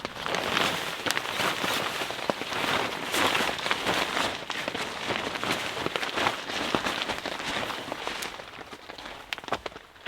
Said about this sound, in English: it is dripping from the trees